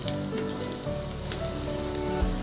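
Onions fry in a pan with a constant close sizzle and faint steady hum, a few soft crackles and a short low knock near the end, no speech.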